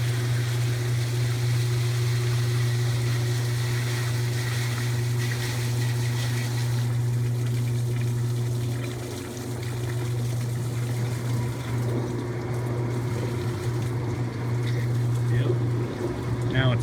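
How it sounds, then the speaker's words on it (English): A Kenmore washing machine finishing its spin cycle while draining water from the drum, producing a steady low motor hum with a constant rushing, pumping wash of water throughout. "about done with the spin cycle. Still emptying all the water out of it."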